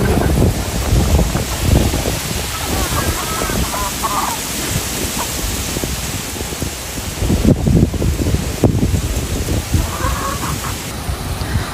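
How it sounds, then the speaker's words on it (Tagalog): Strong wind buffets the microphone in a constant roar, with gusty rumbling throughout and a faint voice now and then underneath. "Malakas pa rin po ang hangin."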